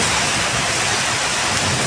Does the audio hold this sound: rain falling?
yes